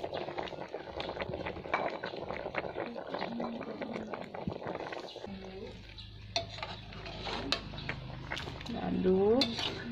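Semur Betawi beef stew with fried potatoes stirred in a pot, with scraping and sizzling frying sounds and light utensil clinks, someone talking over the first half, then steadier simmering and a louder clatter near the end.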